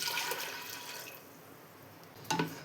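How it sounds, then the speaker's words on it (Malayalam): Water poured into a pot of chickpeas for kadala curry, a steady close pouring and splashing that fades to a quiet trickle, then a brief louder splash near the end, with no talk. "ഇനി ഇതിലേക്ക് 2 ഗ്ലാസ് വെള്ളം ഒഴിച്ച് കൊടുക്കുകയാണ്."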